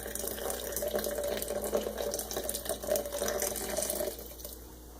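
Hot water poured slowly in a circle over coffee grounds in a French press, a steady close trickling and splashing stream lasting several seconds before tapering off at the end.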